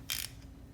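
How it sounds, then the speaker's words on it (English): A GearWrench 120XP 120-tooth ratchet gives a single quick burst of fine, rapid clicking, close and fairly quiet, then fades to near silence. "probably I won't really care much about this being a 120 tooth ratchet"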